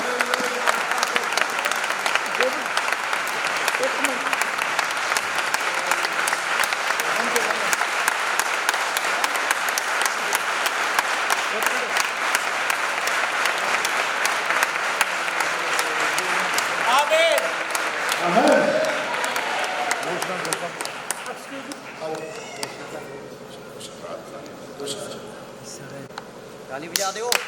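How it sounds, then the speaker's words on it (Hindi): A church congregation claps steadily and densely through a bishop's ordination at St Luke Church, Jalandhar Cantt, the dense applause thinning after about twenty seconds into scattered claps with voices in the hall. "ताली रुकनी नहीं चाहिए"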